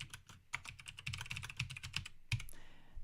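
Quick, close clatter of keys on a computer keyboard entering form text, a dense run of clicks ending with a firmer keystroke, with no talking.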